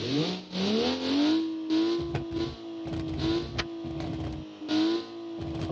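Car engine in the Automation game revving hard, climbing in pitch through repeated throttle blips and sustained high-rev holds, loud and close with crackly, distorted bursts between pulls.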